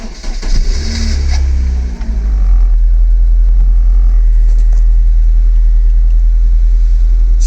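A 2003 MG TF engine cranks and fires up, then settles into a loud, steady rumbling idle close by with no talk.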